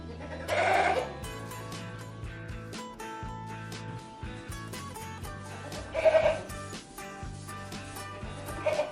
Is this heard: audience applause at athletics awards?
no